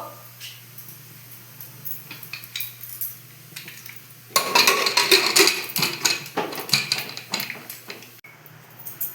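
Metal clatter of a wok being set down on the stove and shifted, a burst of clanking in the middle with lighter knocks before and after.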